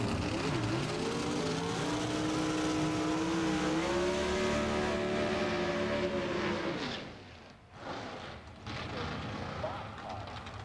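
Warren Johnson's and Mike Edwards' Pro Stock drag race cars in a 1997 NHRA run: loud, rising engine howl that climbs in pitch for several seconds and then cuts off sharply, followed by a quieter, rougher engine sound, with commentary over the top.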